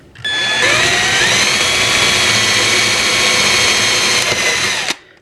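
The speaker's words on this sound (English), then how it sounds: "I'm just going to come back a little bit from the center of the hole and drill it at an angle." A power drill whines steadily at high speed for several seconds while drilling a hole at an angle, starting and stopping abruptly, close and loud, with no one speaking.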